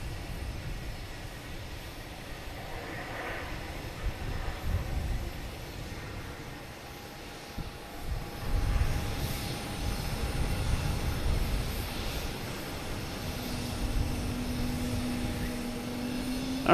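Delta Airbus A220 landing at Boston Logan Airport after a flight from Charleston, a distant jet rumble that grows slowly louder, with a thin engine whine rising late on.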